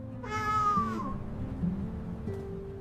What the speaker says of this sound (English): Oh, it is just a cat.